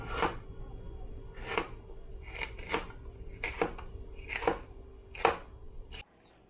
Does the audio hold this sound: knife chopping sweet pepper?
yes